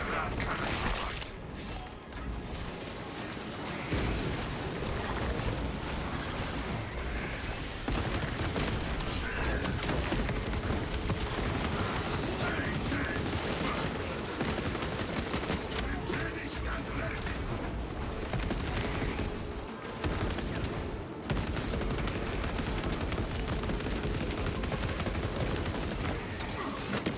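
Heavy blast cannons firing during a Warhammer 40,000: Space Marine siege battle, a dense continuous barrage of booming shots and mechanical clatter at high volume for the whole stretch, with voices faintly mixed in.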